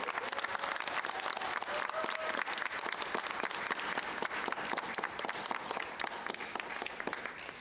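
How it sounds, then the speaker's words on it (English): A pageant audience breaks into sustained applause for the contestants, a dense, steady wash of many hands clapping at full volume throughout, with faint voices mixed in. "let's have a round of applause for our contestants."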